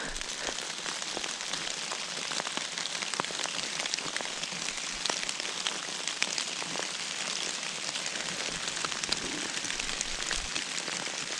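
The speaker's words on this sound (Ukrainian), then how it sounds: "Дощ іде, але треба пробігтися по цьому лісі" Heavy rain pours steadily through a forest, a dense, continuous hiss of drops striking leaves and ground close by, with scattered louder taps throughout and no voices.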